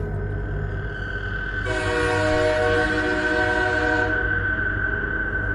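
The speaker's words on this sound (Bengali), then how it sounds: "দূরে ট্রেনের হুইসেল শোনা যাচ্ছে এবং ট্রেনের লাইট দেখা যাচ্ছে" A cartoon train sounds a long, loud horn blast over a steady rumbling rail track, the horn swelling in partway through and cutting off before the end, leaving the low rolling train noise.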